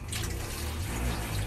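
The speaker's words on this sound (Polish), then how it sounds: "Jak puszczę teraz wodę." Tap water runs steadily inside a campervan, a continuous broad rushing splash that stays loud and close for the whole moment with no talking over it.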